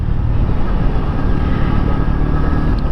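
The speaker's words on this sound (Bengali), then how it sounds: "এটার মতো একজোস নোট অন্য বাইকে নাই" A motorcycle's exhaust drones loud and close while it is ridden, a steady throaty rumble with no breaks and no voices over it.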